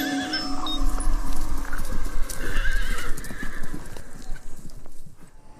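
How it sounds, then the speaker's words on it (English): A horse neighs over steady clip-clopping hooves, a loud close sound effect that carries for several seconds before fading out near the end. "in the shadow of the wings of the immortal winged horny horse"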